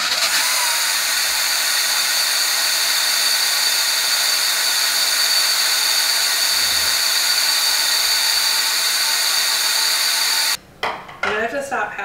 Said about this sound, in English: And blend this until it's super smooth.